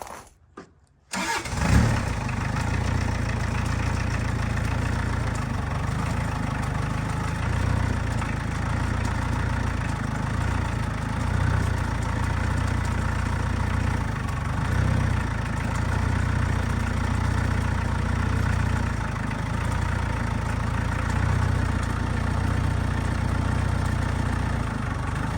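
Tractor engine starting, then running steadily at idle while front-end grapples are operated, a loud continuous low diesel drone with slight shifts in load.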